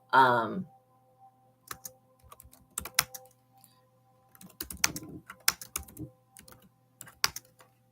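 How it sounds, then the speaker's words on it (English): Keyboard keys click in short irregular bursts as a message is typed into a chat, close and crisp, preceded by a brief sigh-like voice sound at the start. "I'm going to type it in the chat"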